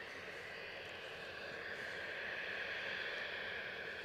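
An 18-year-old Embraer 190 jet taxies slowly at Edinburgh Airport, its engines giving a steady, distant whine and rumble that holds at an even level throughout.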